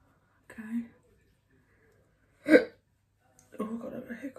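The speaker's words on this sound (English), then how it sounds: "Oh, I've got a bit of hiccups." A single sharp hiccup sounds close and brief between soft bits of speech, set apart by quiet moments during a skincare routine.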